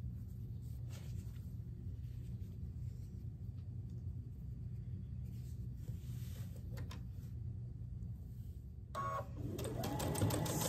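A sewing machine runs steadily while stitching quilt block rows with a quarter-inch seam, a low continuous mechanical hum that holds evenly throughout and picks up a brighter clatter near the end.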